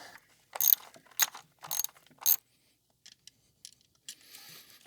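Ratchet wrench working a bolt on a 2011 Cadillac SRX 3.0 engine: four quick bursts of close metallic clicking, then a few faint ticks and a soft rustle, with no voices.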